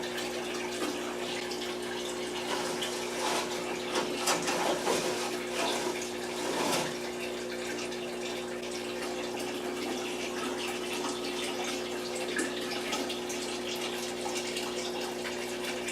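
Water runs steadily during a guppy aquarium water change, a continuous close splashing and rushing flow with brief louder surges.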